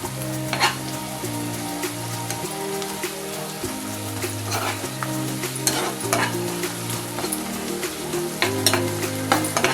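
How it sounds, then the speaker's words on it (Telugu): Green chillies and curry leaves fry in hot oil along with onions, making a dense, continuous crackling sizzle with scattered sharp pops and occasional stirring. It is loud and close, with faint background music underneath and no talk. "కొంచెం కరివేపాకు కూడా వేసి వేయించుకుందాం."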